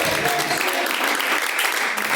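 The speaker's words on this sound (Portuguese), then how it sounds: "palmas para louvar a Deus" A church congregation claps together in praise during a live worship service, a thick, continuous burst of many hands that holds steady throughout.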